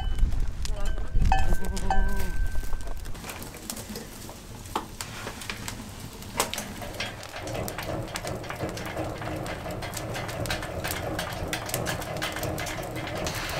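Corsican goats out in the maquis scrub, a busy jumble of bleats, clanking bells and shuffling as the herd moves close by, with voices mixed into the steady outdoor noise throughout.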